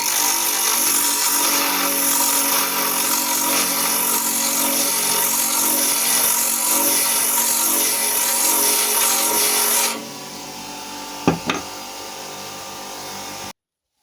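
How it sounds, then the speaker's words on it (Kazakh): An electric whetstone sharpener grinds with a steady, loud abrasive whine for about ten seconds, then stops abruptly, leaving quieter background with a couple of sharp knocks. "Енді қазір осы тоқ қайрақты қайрап көрейік."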